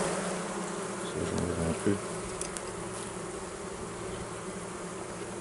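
Honeybees buzzing around an open Layens hive, a dense continuous drone close by, with a brief quiet spoken remark partway through.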